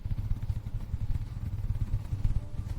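Motorcycle engine running close by, a steady low rumble with rapid pulsing throughout and no clear start-up or pull-away, heard alone without talk.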